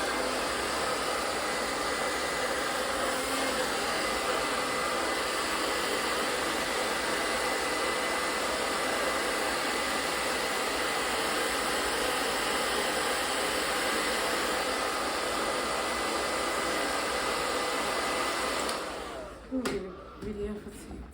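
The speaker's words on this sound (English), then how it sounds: "you're going to use your blow dryer on medium" A hair blow dryer set to medium runs steadily and close for a long stretch with an even whooshing hum, then cuts off near the end, where handling noises follow.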